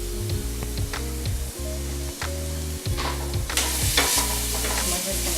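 Garlic sautéing in a pan, a steady sizzle over a droning background hum that keeps cutting in and out, with stirring scrapes and a brighter hiss swelling near the end.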